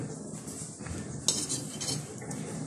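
A dudh chitoi pitha being lifted from its pan with a spoon, soft metallic scrapes and light clinks over a low background hiss, close and fairly quiet.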